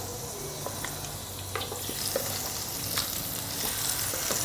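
Chicken fries in hot oil for a chicken curry, giving a steady close hiss and sizzle with scattered small pops and faint stirring clicks throughout.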